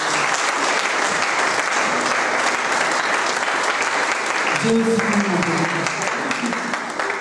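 A church congregation applauds and cheers to acclaim the Lord, producing steady, loud, dense clapping that lasts throughout, with a voice rising briefly over the applause near the end.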